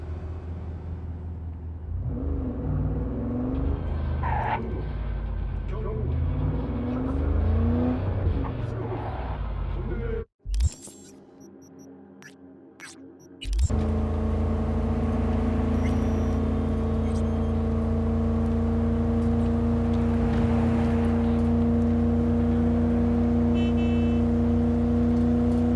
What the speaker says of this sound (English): Vehicles could be near your current position.